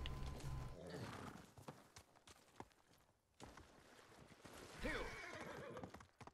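Horse whinnying and hooves clip-clopping in the samurai video game Ghost of Tsushima, with a rising neigh near the end over steady game ambience and hoofbeats.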